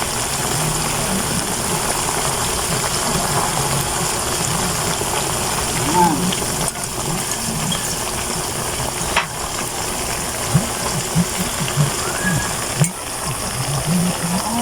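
Dense, steady sizzling and bubbling of banana chips frying in oil with added sugar, vinegar and water, carrying scattered sharper pops, with faint voice-like sounds under it.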